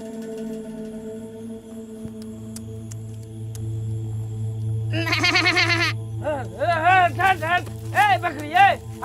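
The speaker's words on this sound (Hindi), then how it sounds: "किसका बकरी है रे?" Goat bleating in a Panchayat village scene, several wavering, nasal bleats in quick succession, loud and close, following a stretch of low hum and background murmur.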